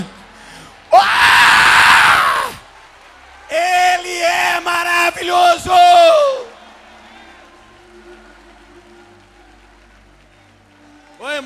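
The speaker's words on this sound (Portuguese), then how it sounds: "Bata palmas e dá grito de glória." Loud shouting and screaming from a church congregation crying out praise bursts out, pauses, then returns in a second wave of excited cries; no clear clapping stands out.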